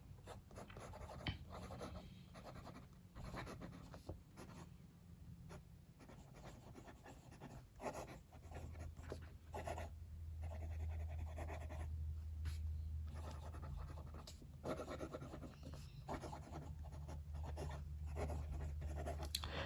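A Pelikan M1000 fountain pen with a broad, wet nib scratches softly across paper in faint, intermittent strokes, with a low hum underneath.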